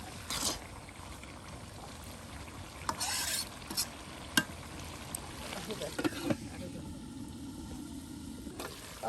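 Village kitchen cooking of chamri biryani by two women, with soft stirring, scraping and sizzling in a pot, faint clinks and a low bubbling hiss, under quiet background murmur.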